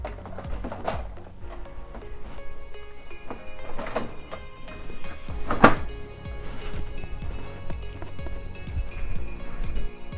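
A paper tray slides back into a Brother DCP L2540DW laser printer, a few scraping thunks and a sharper clunk as it seats, close over steady low room noise without speech.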